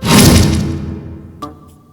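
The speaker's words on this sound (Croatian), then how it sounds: "Klara, udarac ti je kao kod nekog slona." A single heavy punch lands in a school kitchen with a loud thump, then fades with a short rumbling decay, followed by a faint knock and a brief click.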